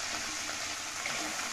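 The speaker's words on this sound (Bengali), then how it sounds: "এর মধ্যে আমি এরপরে আদাগুলো দিয়ে দিচ্ছি, সামান্য একটু নেড়ে নিব" Ginger pieces sizzle in hot oil in a pan while being stirred briefly, a close, steady and dense crackle with no voices.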